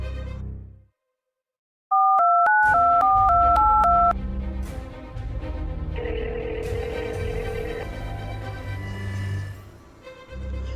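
A rapid run of keypad tones as a phone number is dialed, a dozen short beeps in quick succession, followed by a low hum and faint tones.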